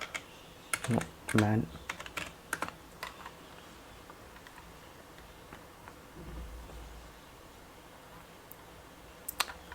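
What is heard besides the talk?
typing on a computer keyboard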